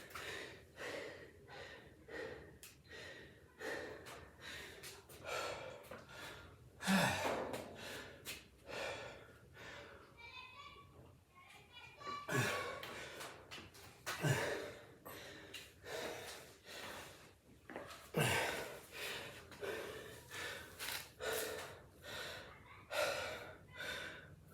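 Heavy, labored breathing after a grueling pump workout challenge: repeated deep gasps and snorting exhales, close to the microphone, rising and falling in bursts with brief quieter stretches.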